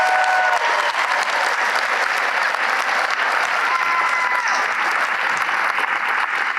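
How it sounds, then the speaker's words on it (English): A large audience at a Greensboro Day School graduation ceremony for the class of 2026 applauds, a loud dense wash of clapping that stays steady throughout. "One more final round of applause for the class of 2026."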